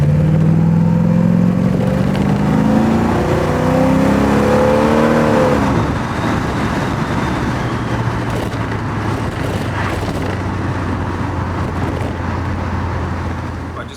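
A Porsche 928 is floored hard in first gear, its engine rising in pitch as it revs up and then roaring on in a loud, sustained broadband rush of engine and road noise.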